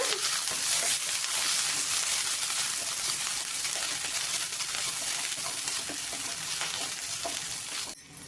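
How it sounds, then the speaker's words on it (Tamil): Onions and green chillies sautéing in a pan, a loud, steady broadband sizzle with faint stirring scrapes, close up, cutting off abruptly near the end. "நல்லா ஒரு நிமிஷத்துக்கு வெங்காயத்தை வதக்கிக்கோங்க."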